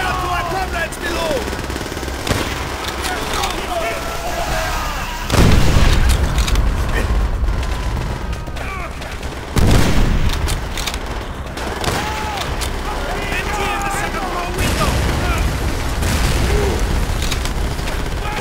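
Battle in Call of Duty: World at War, with steady rifle and machine-gun fire broken by two heavy, booming explosions, as game voices shout in the background.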